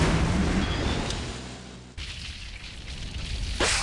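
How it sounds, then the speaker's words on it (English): An animated storybook gas pump explodes with a loud, roaring blast and sustained rumble, then cuts to a second rushing burst and a final whoosh. "The gas pump exploded."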